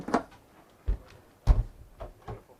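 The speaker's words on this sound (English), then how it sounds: "So I could close the door here." A shower door closes aboard a Hylas H48 sailboat, heard as a few soft, close knocks and thuds spaced over a couple of seconds with no talk.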